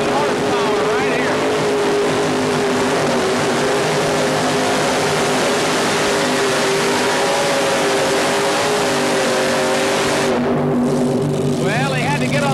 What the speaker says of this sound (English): Here's the Fancy Farmer running 3 Case Black Chrysler Hemi motors.